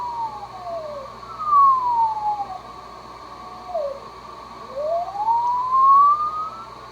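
A CW carrier tone through the 500 Hz narrow filter of a Kenwood TS430S ham radio, a clear whistle gliding down in pitch and fading out, then sweeping back up as tuning passes across the filter, with no voice.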